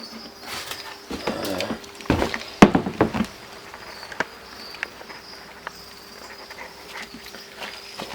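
Crickets in a home breeding enclosure chirp faintly and steadily in the background, while scattered close knocks and rustling handling sounds come and go over the first few seconds.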